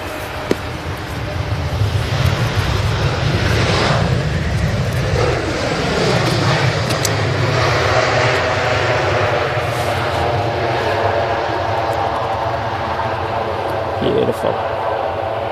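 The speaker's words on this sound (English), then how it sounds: "This is a EasyJet A320 from Belfast." An EasyJet Airbus A320 arriving from Belfast roars steadily overhead at Manchester Airport on runway 05R in the early morning, its engine noise loud and sustained throughout, with occasional talk over it.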